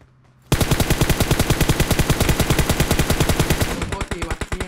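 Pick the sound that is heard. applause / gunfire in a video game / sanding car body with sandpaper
gunfire in a video game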